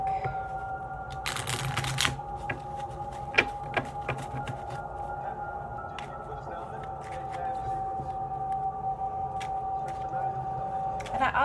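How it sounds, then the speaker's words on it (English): A deck of cards is shuffled close by, with soft riffling bursts and scattered taps over a steady humming background tone. "I'm gonna go ahead and shuffle and see what kind of collective message we can get from this"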